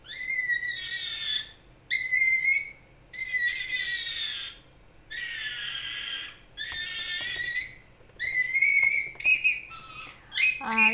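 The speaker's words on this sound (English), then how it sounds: "I have to do something with that bird." A pet bird indoors gives a series of loud, clear whistled calls in repeated bursts, each lasting about a second with short pauses between, close to the microphone and with no talking.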